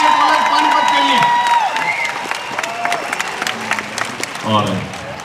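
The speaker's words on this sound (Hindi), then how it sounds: "जोरदार तालियां आर्य कॉलेज पानीपत के लिए।" A large audience at a college cultural festival in Kurukshetra claps and cheers loudly, a dense, steady wash of applause behind an amplified voice, with a brief whoop near the end.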